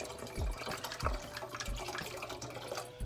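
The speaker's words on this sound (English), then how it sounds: "So put my water in." Water splashes and trickles into a jug, with a few louder gushes and glugs over a steady running flow, close by.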